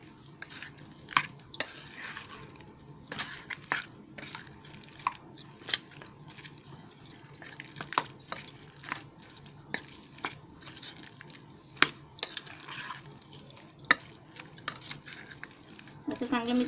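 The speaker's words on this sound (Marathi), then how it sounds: "असं चांगलं मिक्स करायचं." Chicken Manchurian marinade with egg is mixed by hand in a bowl, giving repeated wet squelches and sticky slaps at an irregular rhythm, close and fairly quiet.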